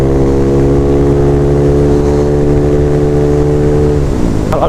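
Yamaha Aerox 210cc scooters fitted with aftermarket non-standard exhausts drone loudly and steadily while riding, a close, constant engine hum with strong harmonics that shifts pitch near the end.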